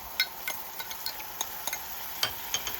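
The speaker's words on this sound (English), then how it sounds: "When the green onion aroma rises, add the seasoning sauce and stir fry." Pork stir-fried with green onion oil and seasoning sauce in a pan: a faint sizzle under scattered sharp scraping taps of a utensil, irregular and close.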